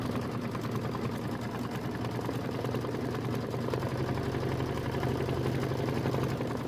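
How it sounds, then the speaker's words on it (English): A Kimberbell embroidery sewing machine stitches a tack-down line through fabric, a steady, continuous mechanical hum and rapid needle chatter running evenly throughout without pause. "Stitch the E tack down line."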